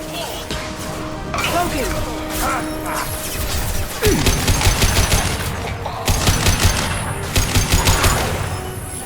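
Gunfire in the Mass Effect 2 video game crackles in loud rapid bursts amid smashing impacts and battle noise, with voices speaking over the firefight.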